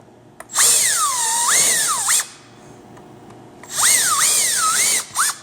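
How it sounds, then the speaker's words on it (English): A power drill whines up to speed twice, pitch rising and falling as it pre-drills holes in pine scrap wood, loud and close with quiet gaps between. "It's just to pre-drill a couple holes in it."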